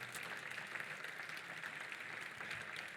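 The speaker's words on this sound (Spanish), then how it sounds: "Ha sonado un poco tímido ese aplauso" A church congregation at a Sunday service gives faint, hesitant applause, a thin, distant patter of clapping that stays soft and even throughout with no talk.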